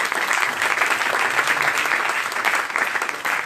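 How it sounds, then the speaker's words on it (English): A church congregation at an Easter Sunday morning service breaks into full, continuous applause, a dense wash of clapping at a steady level across the whole moment. "Give him a hand clap."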